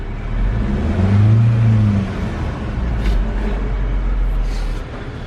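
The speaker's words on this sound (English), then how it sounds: "When the engine's running." A steady engine idles close by, its low rumble swelling briefly, with faint squeaks on top.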